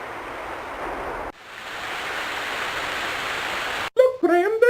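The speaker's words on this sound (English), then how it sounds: "A cascading waterfall, though very beautiful, nevertheless cuts off further travel up the coast." A cascading waterfall along a cliff-lined coast in the adventure game King's Quest V gives a continuous hissing rush, briefly cut off once, before a voice begins speaking at the end.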